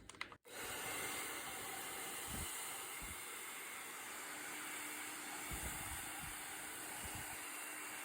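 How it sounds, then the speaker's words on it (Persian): A hair dryer heats a candle mold before paraffin is poured, giving a steady blowing hiss that starts abruptly after a brief click and runs on at an even level, with a few soft knocks underneath. "قبل از اینکه پارافین رو بریزم داخل قالب با سشوار حرارت میدم"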